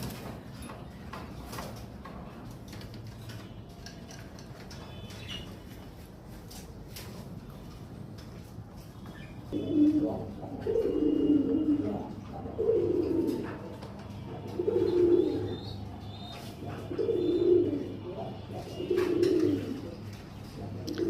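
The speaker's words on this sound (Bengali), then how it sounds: "দেখেন পাখিগুলো কি করছে, ছোটাছুটি করছে পিছনে।" Pigeons on a pigeon farm coo in repeated low, throaty bursts after a quieter start of shuffling and movement, the calls rising and falling in a steady rhythm nearby.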